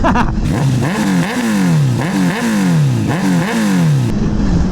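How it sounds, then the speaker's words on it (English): A Honda CBR1000RR motorcycle with a Hyperflow exhaust revs loudly and close by, rising and falling in four or five repeated throttle blips, each pitch sweep climbing and then dropping back. "I love the sound, baby. That Hyperflow exhaust."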